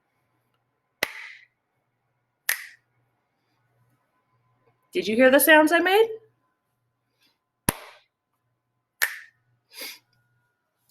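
Sharp hand claps and finger snaps, a pair of crisp single hits spaced apart early on, then three more after a stretch of a person talking, each one close, dry and isolated against silence.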